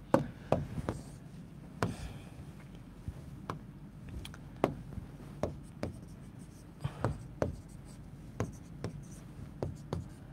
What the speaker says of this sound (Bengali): দেখো সুন্দর মতো লিখি আমরা